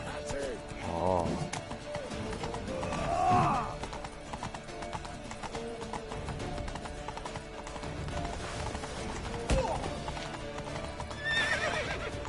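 A horse in The Witcher 3, played on PS5, gives loud neighs and whinnies between rhythmic hoof clip-clops, with game sounds and some voices around it.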